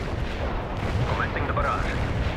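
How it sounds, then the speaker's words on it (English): An artillery barrage rumbles in World in Conflict, a dense wash of distant booms and low blasts under radio-style voices talking. "Commencing the barrage."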